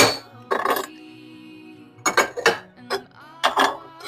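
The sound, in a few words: ceramic dishes and platters being handled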